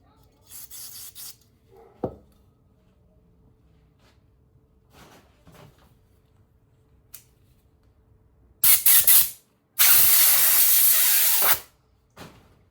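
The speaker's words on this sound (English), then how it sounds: "So we'll spray some carburetor cleaner in there." Two loud hissing bursts of carburetor cleaner spray, the second longer, with soft rubbing and scraping noises in the quiet stretches before them.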